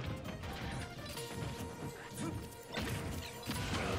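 Grenades blowing up in Super Smash Bros. Ultimate during a tournament singles match give dense, crunchy crash bursts amid busy game effects and crowd noise, with a few sharper hits standing out.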